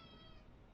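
A pet cat whines indoors with a short, faint, strained meow that has a drawn-out, high tone.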